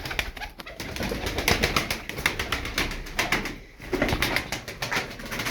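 Pigeons in a loft coo softly and shuffle, with occasional wing flaps, close and fairly quiet, with no talking.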